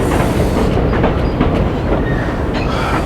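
Loud, steady rumble and rattle of a New York subway train running on tracks, close by, with faint metallic squeals rising briefly.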